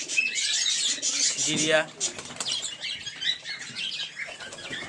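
Pet pigeons of a Giribaz fancy collection, including a male Lalmohan, coo and flutter close by, a flap of wings near the start, while someone talks over them throughout.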